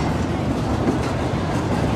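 Green Line Express train running steadily after departing Rawalpindi railway station, a continuous close rumble of wheels on rails with faint clickety-clack, heard from inside the coach.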